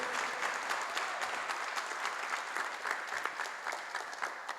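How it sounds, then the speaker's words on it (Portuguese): A church congregation applauds loudly and steadily, a dense wash of many hands clapping together with no talking over it. "Quer aplaudir, aplaude bem forte, que Ele é santo."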